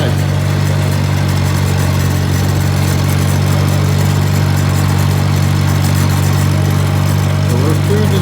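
A diesel vehicle on a snowy cold day runs in first gear, a loud, steady low engine drone with constant rumble and no change in pitch, with a voice partly heard over it.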